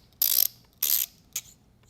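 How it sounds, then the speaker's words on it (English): A KAC QDC suppressor locking collar is turned over its ratcheting notches, producing three loud, crisp rasping ratchet bursts up close, the first two longer and the last one short. "Check to ensure that it's properly retaining and we have that good solid rotation and the ratcheting notches"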